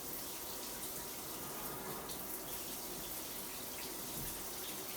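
Water from a repaired low-flow shower valve runs at full hot with a steady, fairly faint hiss and spatter that continues unbroken.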